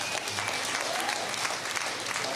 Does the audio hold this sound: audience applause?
yes